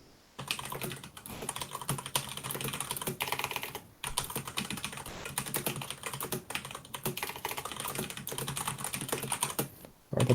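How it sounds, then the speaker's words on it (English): Rapid typing on a computer keyboard in the next room, steady clatter of keystrokes running almost without pause for ten seconds, with short breaks near four seconds and at the end. "Sorry about the typing."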